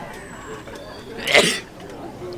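A single sharp human sneeze bursts out near the middle, close and fairly loud, over a low background murmur of people at an outdoor classic car show.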